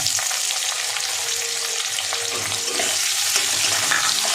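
Chopped onion frying in hot oil for a red pulao, a loud, close, continuous sizzle with a faint stirring scrape, with no voices.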